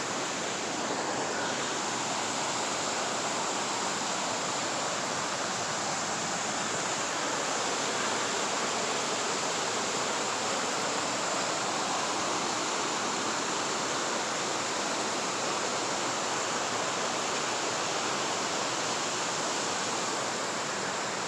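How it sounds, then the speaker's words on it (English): Shadow Creek Falls, a waterfall in nature, pouring as a constant loud broadband rush of falling water that holds steady with no voices. "to Shadow Creek Falls."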